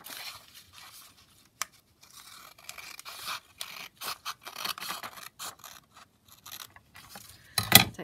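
Paper being trimmed for a junk journal pocket, with close, quiet bursts of scissor snips and paper rustling and scraping, irregular and intermittent between short pauses.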